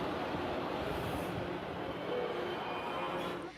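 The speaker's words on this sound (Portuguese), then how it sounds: "O trem para" A metro train on a São Paulo station platform rumbles steadily at close range as it pulls in, the broad roar holding for several seconds before easing off as it stops.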